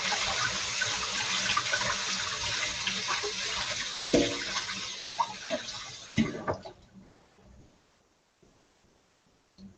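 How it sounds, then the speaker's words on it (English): Water runs steadily from a tap over food in a strainer for several seconds, with a few clanks and knocks before the flow stops and the sink goes quiet. "I'm going to run them under water in a strainer real quick"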